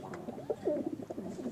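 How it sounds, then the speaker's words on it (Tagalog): A male racing pigeon coos during a courtship display, a close, soft, rolling series of throaty murmurs repeated in quick succession with no talk over it. "Paano bumarako yan?"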